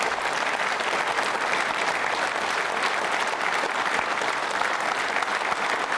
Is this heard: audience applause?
yes